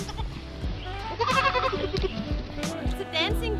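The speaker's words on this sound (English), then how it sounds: "It's a dwarf goat." A dwarf goat, one of the jumping kind, bleats in a few wavering, quavering cries at close range, amid a busy outdoor setting with people talking around it.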